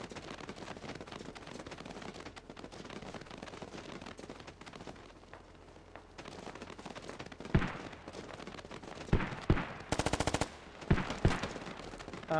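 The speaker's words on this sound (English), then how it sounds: "I hit him with my machine gun" Automatic machine gun fire in the video game Squad: a rapid burst near the end among several heavy single shots, over a constant rumble of battlefield noise.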